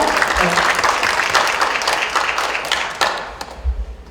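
An audience at a book launch talk concert gives a round of clapping that starts strong, thins gradually with a few sharp individual claps near the end, with some low background noise.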